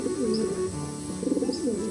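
Soft, repeated pigeon cooing in an animated Panchatantra-style Hindi story, low mournful coos in two phrases over a steady background hum.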